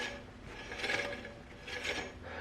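A Jetson Bolt Pro electric scooter's front wheel, fitted with a new brake rotor, spins freely, giving a faint, steady rasping rub that swells twice as the disc brushes the caliper.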